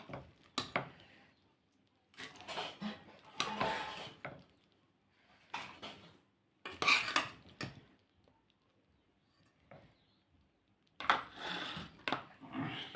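Metal spoons clatter against a steel cooking pot in a home kitchen during a meal of boiled pigeon peas, arriving in short irregular bursts of clinks and scrapes with quiet gaps between.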